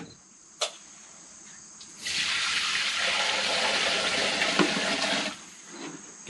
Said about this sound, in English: Okay, so I'm going to fill up the water pan